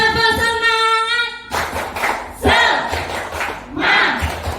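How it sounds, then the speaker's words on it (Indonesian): Group of people at a school activity doing a rhythmic clapping chant, loud shouted voices in unison with sharp hand claps in short bursts, led by a sustained called-out voice at the start. "Tepuk semangat. Semangat. Kurang semangat, lebih keras lagi ya. Tepuk semangat."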